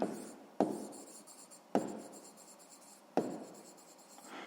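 Pen strokes from handwriting during a sixth-grade math lesson, heard up close as three scratchy bursts, each starting with a tap and trailing off, with no voices.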